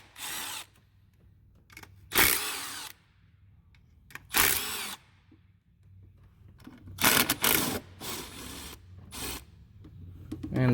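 A power tool with an 8mm socket spins out the valve cover bolts on a C5 Corvette, several short whirring drill bursts of varied length separated by quiet gaps, close and without speech.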